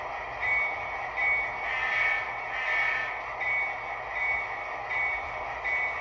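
An HO scale model train runs steadily along a home layout, with a continuous low rumble and a pulsing, slightly squealing mechanical tone that swells and fades in regular cycles.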